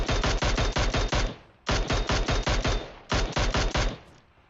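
Automatic gunfire in the video game PUBG Mobile rattles out in three rapid bursts of sharp, close shots, separated by brief pauses.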